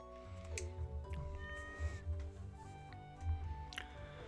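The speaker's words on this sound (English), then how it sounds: "You be a good kitty now" A cartoon cat meows in Stardew Valley, its short calls rising over layered game music and chimes, moderately loud with no talking.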